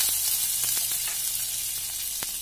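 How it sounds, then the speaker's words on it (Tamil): Butter sizzles steadily in a frying pan ready for mushrooms, a dense bright crackle with scattered sharp pops, close and constant. "இப்ப ஃப்ரை பண்றதுக்கு கொஞ்சமா பட்டர் ஆட் பண்ணிக்கலாம்"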